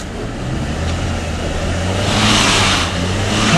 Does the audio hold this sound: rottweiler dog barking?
no